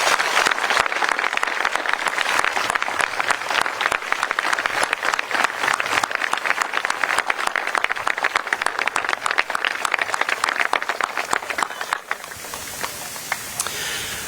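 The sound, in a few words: audience applause for military veterans and service members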